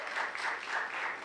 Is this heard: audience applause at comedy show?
yes